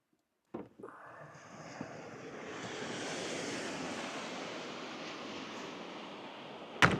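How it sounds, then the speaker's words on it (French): Waves wash steadily over a pebble beach, a broad rushing surf sound that swells and holds for several seconds after a short handling bump, with a sharp knock at the very end. "je suis sur la plage. Enfin, c'est une plage de galets"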